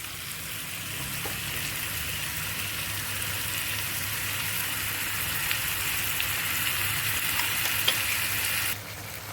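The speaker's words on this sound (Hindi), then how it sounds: "जिंजर गार्लिक पेस्ट भुन गया, बहुत अच्छी सी खुशबू आ रही है इसमें से।" Ginger garlic paste fries in a pan for methi chicken, giving a steady, close, continuous sizzle with light crackles throughout and no voices.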